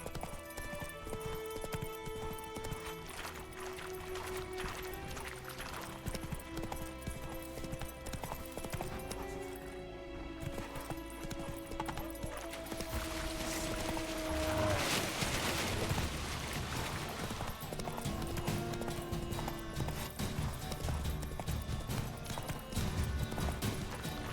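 Roach the horse gallops in The Witcher 3, with steady hoofbeats clip-clopping over game music, a couple of brief whinnies and some distant gunfire-like bursts, with no one talking.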